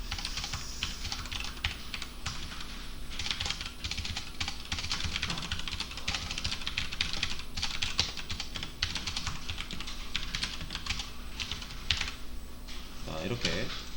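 Steady, rapid typing on a computer keyboard during a Linux setup session, with a fast run of clicking keystrokes continuing throughout and a louder clustered burst near the end.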